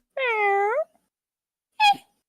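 A person's voice imitates a cat, giving one long drawn-out meow followed after a pause by a second short, clipped meow, both close and clear with no other sound.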